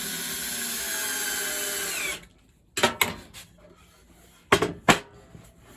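A power drill drives 1 1/4 inch screws into a 3/4 inch melamine planer sled: a sustained close whirring run that stops abruptly, followed by quiet and several sharp clunks and knocks.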